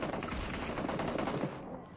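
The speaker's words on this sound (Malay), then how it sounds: "Tembakan cara rambang dilepaskan" Dense, continuous bursts of automatic gunfire from a PUBG Mobile esports match (PMSL SEA), loud and rapid throughout before thinning near the end.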